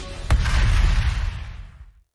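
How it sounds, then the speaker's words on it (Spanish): A single blast from railroad construction: a sharp onset, then a loud, broad rumble that rolls on for about a second and a half and fades out, with no voices. "Se prepara para la explosión"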